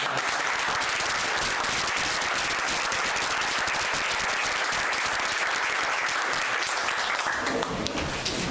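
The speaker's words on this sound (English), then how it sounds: "Can we have a round of applause for all those members who have served?" At a city council meeting, the room applauds members who have served: sustained, even clapping from a crowd, heard from a distance and fairly soft, continuing unbroken for over eight seconds before thinning slightly at the end.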